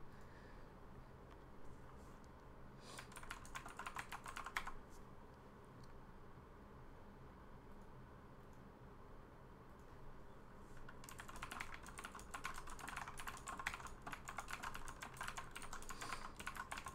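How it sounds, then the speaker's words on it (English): Fast key presses on a mechanical keyboard come in two bursts of clattering typing over a steady low background hum, with a quiet pause between them. "I hope you enjoy the mechanical sounds of, or the sounds of my mechanical keyboard."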